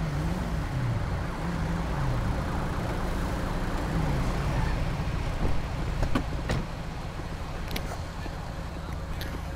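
An ambulance siren in Grand Theft Auto V wails steadily in the distance beneath a constant engine-like rumble and traffic noise, with a few sharp clicks and brief knocks scattered throughout.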